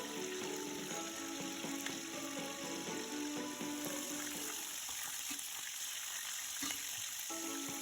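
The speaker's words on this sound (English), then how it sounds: "you can see that the oil is sizzling. We are about to add in salted fish" Salted fish frying in hot oil, a steady crackling sizzle that fills the whole stretch, close up and without any talk.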